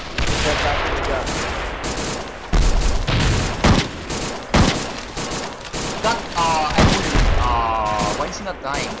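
Machine gun fire in the video game Arma 2, set in a World War II Omaha beach invasion, with dense rapid bursts and booming shots repeating throughout, and voices talking in between the gunfire.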